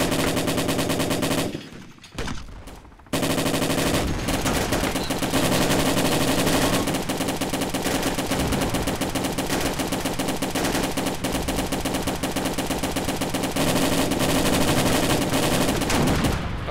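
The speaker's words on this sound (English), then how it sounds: "got so much gunfire." Automatic gunfire in ARMA 2 during a firefight against an APC, rapid continuous bursts that are loud and close, with a brief pause near the start before sustained firing resumes.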